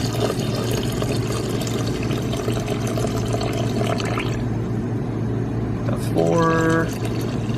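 Plain water poured over sushi rice in a pot: a continuous, loud, close rushing pour throughout, with a person speaking briefly near the end.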